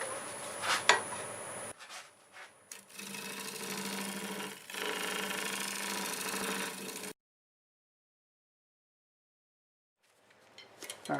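Scraping tool working a wooden square bowl on a lathe, a close, uneven rasping whir in short bursts and one longer pass, then silence before the spinning resumes faintly.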